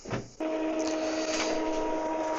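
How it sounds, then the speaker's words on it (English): An Epson EcoTank inkjet printer prints a nozzle check page, giving a short clunk and then a steady mechanical whir with a sustained motor hum. It is close and even, with no talking. "confirm your action and wait for the page from the printer"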